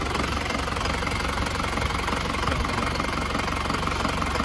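Isuzu Panther engine running with heavy blow-by from a broken piston ring, a steady, loud, close rumble with a rough knocking texture throughout.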